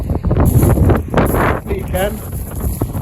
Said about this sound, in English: it's quite windy out